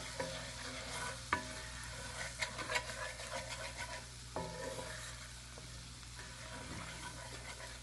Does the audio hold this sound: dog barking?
no